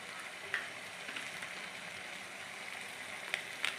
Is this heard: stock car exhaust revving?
no